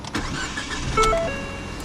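A 2014 Ford Fiesta ST's 1.6-liter four-cylinder engine hums steadily at idle, close by, with a faint whine and a brief rise in level midway.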